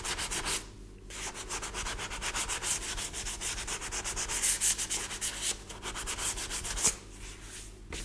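Primer sanded by hand to smooth out pinholes, with a close, steady rhythmic rasp of back-and-forth strokes and a couple of short pauses, quiet and alone with no talk.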